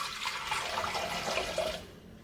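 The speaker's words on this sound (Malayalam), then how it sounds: "അതിലേക്ക് വെള്ളം ഒഴിച്ചു കൊടുക്കാം" Water is poured steadily into a small stone cooking pot while papaya curry is being made, a continuous splashing trickle that tapers off near the end.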